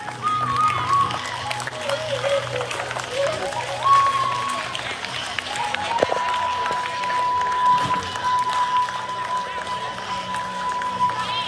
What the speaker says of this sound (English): let us offer the Dipsai a hearty round of applause for their beautiful attire